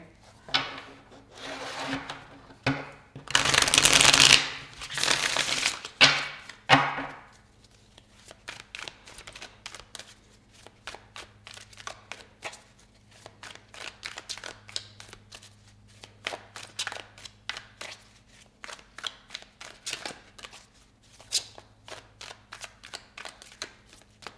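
A fresh, new deck of tarot cards is riffled and shuffled loudly up close, crackling and snapping at first as the cards stick together, then a long run of quicker, softer flicks and taps.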